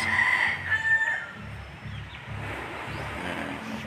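Chickens at a backyard coop cluck and crow near and loud, with a rooster's call at the start and a steady mix of clucking over a soft outdoor background.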